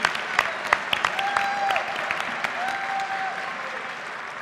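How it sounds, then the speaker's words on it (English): An audience at a Buffalo Broadcasters Association Hall of Fame induction ceremony applauds the local broadcasters, with steady, dense clapping throughout and a brief tone sounding faintly in the background. "Absolutely applaud yourselves."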